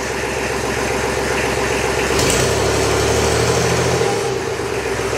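A 50-year-old Kubota tractor engine, stuck in gear, idles with a steady low chug and then revs up loudly midway, holding a higher throbbing pitch before dropping back near the end.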